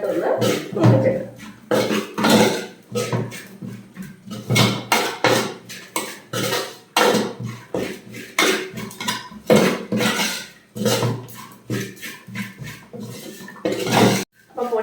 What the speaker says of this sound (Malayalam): ഈ പൊടികളുടെ പച്ചമുളകൊക്കെ മാറുന്ന വരെ നന്നായിട്ടൊന്ന് മൂപ്പിച്ചെടുക്കാം